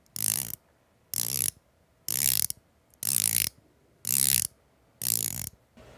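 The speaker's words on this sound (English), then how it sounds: "The click on this new bezel is light years ahead of the old." An old watch bezel being rotated, giving five separate bursts of dense, close ratcheting clicks, each lasting about half a second, with quiet pauses between them.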